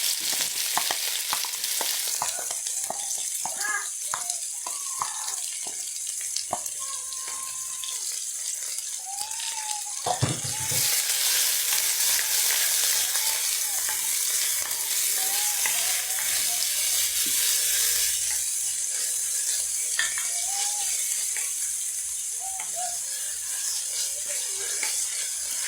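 Onion fries in a pan for a budget mince meal, a continuous close sizzle with scattered clinks and stirring scrapes, while a voice chirps faintly in the background and a louder hissing surge comes midway.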